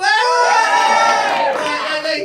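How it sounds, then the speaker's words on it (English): A comedy workshop group cheers together on cue, a loud sustained burst of mixed shouting and whooping voices that fades slightly toward the end. "After three. 1, 2, 3."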